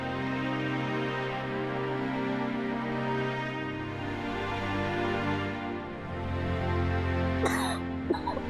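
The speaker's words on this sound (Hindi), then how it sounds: "तुमको तो बहुत जोर से खांसी हो रही है" A person coughs hard in a TV drama scene, with rough bursts of coughing and throat clearing over a continuous musical score, and a few sharper coughs near the end.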